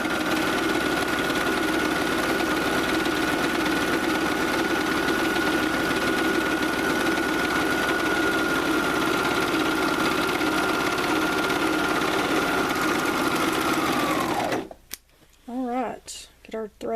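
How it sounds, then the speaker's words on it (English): A Juki MO1000 serger runs steadily while finishing the edge of a tote bag, a loud continuous mechanical whir lasting about fourteen seconds before stopping abruptly, followed by brief quiet talking. "I'm using a Juki MO1000 serger"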